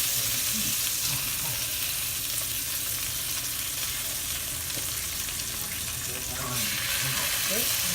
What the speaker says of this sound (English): Now you're going to cook the fat side.